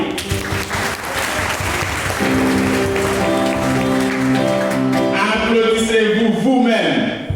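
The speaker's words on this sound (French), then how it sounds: "Applaudissez la présence de Dieu parmi nous." A church congregation claps during worship, steady applause mixed with sustained organ or keyboard chords and voices, growing fuller and more musical toward the end.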